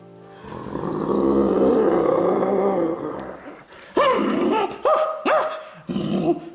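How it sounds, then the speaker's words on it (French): A dog growls low and long, then lets out several sharp, loud barks in quick succession close by. "Ne me dis pas que tu es en train d'aboyer juste pour rien, hein?"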